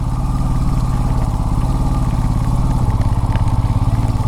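Motorcycle rolling at low speed onto a small bridge at Kundala Dam in Munnar, Kerala, in the rain, its steady close engine putter joined by clattering thumps from a bumpy surface throughout.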